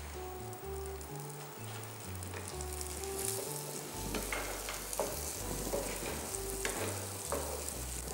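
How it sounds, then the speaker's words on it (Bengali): Roasted moong dal dropped into hot oil with panch phoron for Bengali khichuri, giving a steady, fairly loud sizzle and crackle throughout, with low tonal sound running underneath. "ভাজা মুগ ডালটা ছেড়ে দেবো।"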